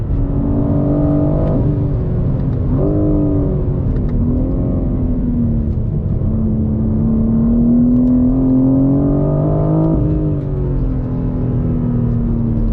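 A 2023 BMW M4 CSL on the road, heard as a loud continuous engine drone and tyre rumble from inside the car, the engine pitch rising and dipping with throttle changes, no talking.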